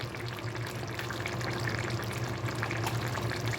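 Ghee added to a cooking pan while preparing mankochu (giant taro) sizzles and crackles steadily, a close, even frying hiss with soft bubbling that holds throughout.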